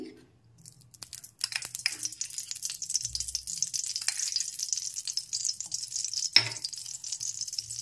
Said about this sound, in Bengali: একটু নেড়েচেড়ে ফোড়নটা ভেজে নিচ্ছি